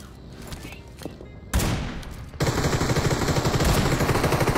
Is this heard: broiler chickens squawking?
no